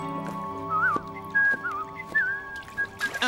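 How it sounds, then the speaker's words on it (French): A parrot whistling a few short, warbling melodic phrases over a quiet musical background, close and clear. "Un perroquet qui siffle à la manière de Bunty?"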